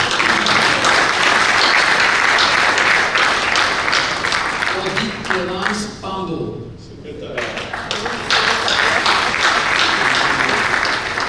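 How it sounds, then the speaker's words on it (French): An audience at a convention in Libreville bursts into sustained applause, dense clapping that dips briefly midway then swells again, with a presenter's amplified voice announcing names over it. "Applaudissez-les quand même"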